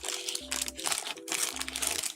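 Crinkling plastic wrapper of a Subway cookie being torn open, two bursts of crackly rustling close to the mic over a low background hum.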